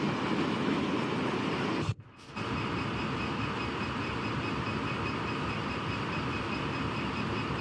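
A train running along the Trent Valley line in the video game Train Simulator Classic, a steady loud rumbling roll of wheels on track with faint clatter, briefly dropping out for a moment before resuming.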